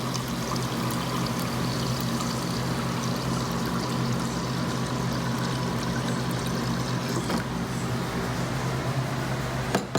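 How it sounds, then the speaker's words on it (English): Water pours steadily into a cup holding a couple of spoonfuls of yogurt, a continuous close splashing stream alone for about ten seconds, part of making a yogurt drink alongside spinach byrek. "we add some water in it."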